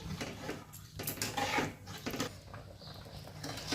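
A spoon stirs coconut prawn curry in a pan after water has been added, giving faint, quiet scrapes and soft clinks against the metal.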